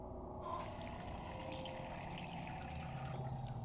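Water running in the Haunting Ground game, a soft continuous trickle and splash, low in level and steady for a few seconds with no voices.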